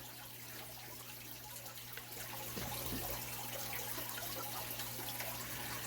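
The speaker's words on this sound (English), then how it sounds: "on the clear containers, you can actually see exactly how far that water is running down." Water splashes steadily into clear plastic rotisserie chicken containers used as seed-starting trays for tomatoes, a soft continuous trickling wash that grows slightly heavier partway through, close by with a faint low hum underneath.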